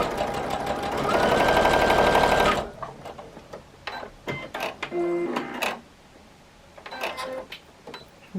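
A sewing machine runs in a fast, steady whirring burst for about two seconds while stitching a quarter-inch seam on a Christmas tree quilt block, followed by scattered clicks and fabric handling.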